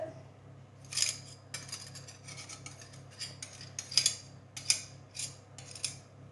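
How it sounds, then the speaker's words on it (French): A knife cuts butter into small cubes on a board, a series of crisp, near taps and scrapes spaced irregularly over a low steady background hum. "Alors, mon beurre, je le coupe en petits cubes"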